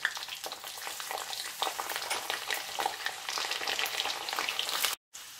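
Cumin seeds and garlic cloves crackle and sizzle in hot oil as a dense, steady frying hiss with scattered pops, close and fairly loud throughout, breaking off in a short gap near the end with no talk.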